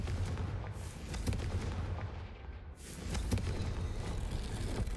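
A Confringo blast spell from the video game Hogwarts Legacy booms in loud, rumbling explosions. Two big bursts land about two seconds apart over a dense, continuous low roar, with sharp crackling impacts mixed in.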